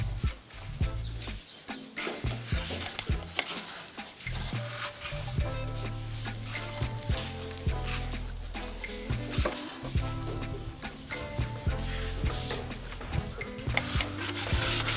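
Steady, rhythmic scratchy rubbing of P80 sandpaper on sealed wood furniture, close and continuous, with repeated back-and-forth strokes and faint birdsong in the background.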